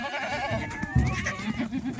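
Kathiyawadi dairy goats bleating nearby in a farm pen, a couple of wavering cries rising over a busy background of other animals and faint voices.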